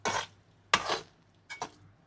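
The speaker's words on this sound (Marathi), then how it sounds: "आणि हे वाटणामध्ये चांगलं मिक्स करून घ्यायचं।" Cashews stirred into an onion and coconut paste masala for a wet cashew curry, with a spoon scraping and clattering against the cooking pot in three short bursts separated by brief pauses.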